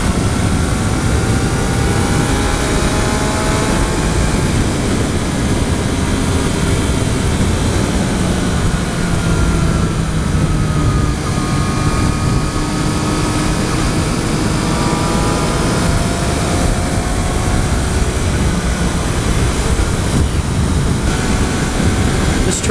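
A 2014 Triumph Street Triple R motorcycle riding at high speed, dense loud wind roar over a continuous engine whine that shifts pitch through gear changes, sustained throughout.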